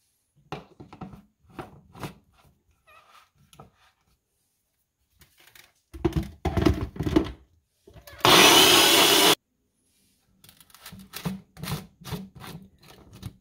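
A Ninja blender mixes cake batter with added sugar for a white vinegar cake, running in a single loud, steady whirring burst of about a second between quieter scraping and clattering handling sounds.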